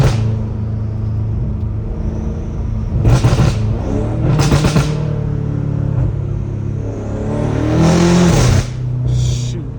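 From inside the cabin, a 650hp BMW M5 Competition's engine surges and rumbles through bursts of hard acceleration, with loud rising roars between steadier stretches and brief talk mixed in.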